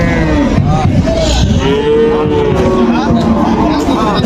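Cattle at a cattle market, close loud mooing with long drawn-out lowing calls overlapping one another, set against a murmur of crowd chatter and background voices.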